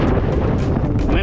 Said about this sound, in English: Wind feels good.